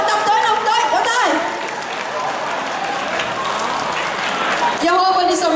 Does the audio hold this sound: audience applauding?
yes